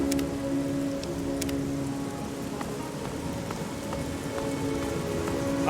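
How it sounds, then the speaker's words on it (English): Steady rain pattering on a surface in the video game Fallout 3, a constant dense hiss with occasional sharper drops and a low hum beneath. "it's starting to rain, which means it's gonna get loud."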